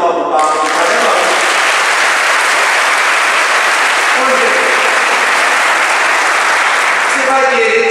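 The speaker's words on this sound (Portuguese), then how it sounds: "Dá uma salva de palmas pro Papa aqui, tá vendo?" Loud audience applause breaks out at a Catholic sermon, a sustained dense roar of clapping lasting most of the clip, with a voice talking briefly at the start and end.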